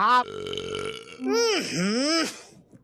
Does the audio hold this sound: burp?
yes